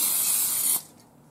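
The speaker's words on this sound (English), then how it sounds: "Let's go ahead and spray out the pan." Cooking spray hisses steadily from an aerosol can into a loaf pan for under a second, close and loud, then cuts off abruptly.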